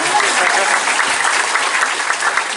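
Sustained applause from a crowd of junior high school students, a dense steady clatter of many hands clapping throughout.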